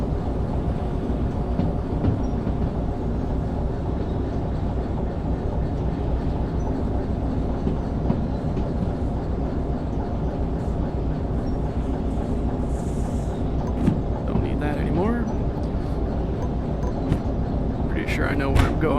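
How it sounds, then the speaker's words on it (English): A heavy freight train rolls along in the Derail Valley game, a steady close rumble with rail clatter and faint squeals throughout, running on its own without talk. "It's a heavy train."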